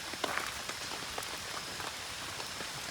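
Steady rain pattering on surfaces at a campsite beside a small fire, continuous soft hiss with scattered droplet ticks, no voices.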